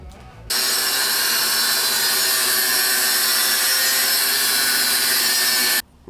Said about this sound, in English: I cut my front fork down on my Mongoose